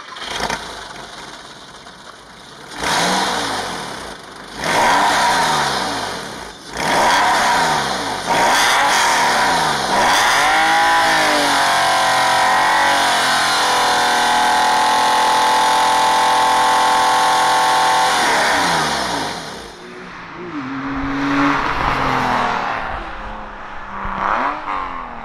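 A first-generation Porsche 996 flat-six with an aftermarket exhaust cranks over, catches and barks through a series of sharp revs, then holds a long steady high rev before dropping back to a lumpy idle, loud and close with no talking.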